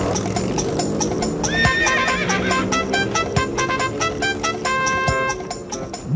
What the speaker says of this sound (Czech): Pobídněte koně v čval!